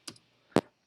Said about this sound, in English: I can type in Heroku.